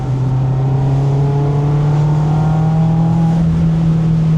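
A Mazda Miata ND engine fitted with a RoadsterSport exhaust and a Helmholtz resonator holds a loud, steady drone that climbs slightly in pitch as it revs. It is close and continuous, with no talking.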